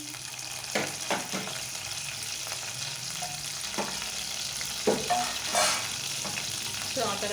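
Curry leaves and cumin seeds sizzle in hot oil for an upma made from leftover idli, with a steady close frying hiss and a few sharper crackles and spoon scrapes, no voice.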